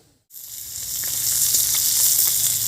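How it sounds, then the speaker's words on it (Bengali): Fish frying crisply in hot oil, a sudden loud sizzle that starts after a brief silence and holds as a dense, steady crackle with faint pops. "বন্ধুরা, আমরা মাছগুলো একদম কড়া করে ভেজে নিয়েছি।"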